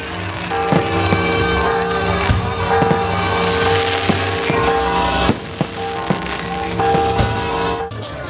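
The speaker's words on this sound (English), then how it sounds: "Then, a terrific fireworks display starts next to the cathedral." A loud fireworks display beside the cathedral in Mazatlán, Mexico, crackles and bangs continuously, with sharp pops and booms layered over a dense roar of crowd noise.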